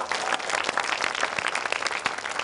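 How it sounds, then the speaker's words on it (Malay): Applause from a studio audience on an Indonesian education program, a dense steady patter of many hands clapping alone for a couple of seconds at moderate volume. "Tepuk tangan."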